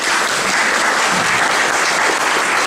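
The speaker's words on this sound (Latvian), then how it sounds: "Aplausi!" Audience at a girls' folk dance group performance in Latvia clapping in loud, dense, continuous applause throughout.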